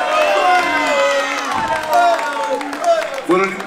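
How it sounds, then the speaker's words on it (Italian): At a kickboxing event, a crowd cheers, whoops and claps loudly and close, with a voice calling out over the noise in short rising shouts. "facciamoci un applauso"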